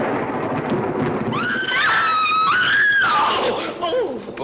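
A sudden thunderclap with rumbling storm noise in a 1944 spooky mystery film, loud and sustained over a few seconds while a shrill voice rises above it.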